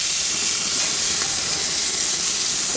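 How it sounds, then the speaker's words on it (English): A pork loin seared over grill flames, a loud, steady hissing sizzle that holds unbroken throughout, close with no voices. "We just want to get a nice sear on it."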